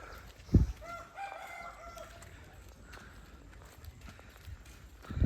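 Chickens spilled from an overturned truck on a rainy village road in Nagaland, with a rooster crowing faintly in the distance and a few soft thuds of footsteps near the start and end.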